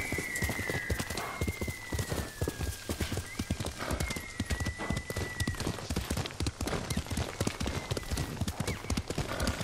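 A white horse from the video game Ghost of Tsushima gallops at a dense, continuous hoofbeat rhythm for several seconds, loud and close, with a drawn-out whinny in the first half and no voices.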